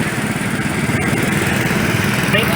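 A 1970 Simplicity Model 728 garden tractor chugs past in the Buckley Old Engine Show parade, its small engine droning steadily and loudly close by with a slightly uneven rumble and no voices.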